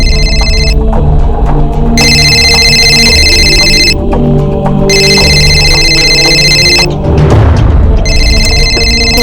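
A telephone rings in repeated bursts of bright electronic tones, separated by short pauses, loud and close over a dense, steady musical background.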